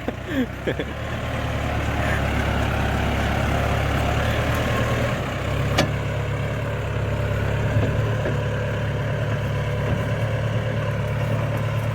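A Yanmar EF725T tractor's four-cylinder, four-stroke, water-cooled engine idles steadily with a low, even rumble, beginning with a few clunks and continuing unchanged, with no voices.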